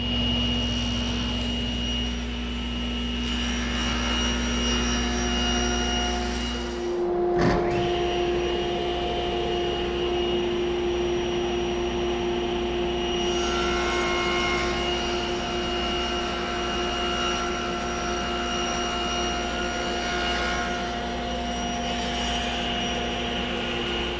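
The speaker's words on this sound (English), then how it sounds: "I'll raise up the saw blade to the appropriate height and take my first cut" Table saw with its blade raised, cutting the corners off a wooden assembly: a loud steady whine and drone, with a sharp thump partway through, sustained throughout.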